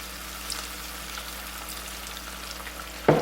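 Garlic sizzles in a pan with brown sugar, apple cider vinegar and soy sauce as a steady, even frying hiss, and a louder burst of sizzle comes right at the end as more liquid hits the hot pan.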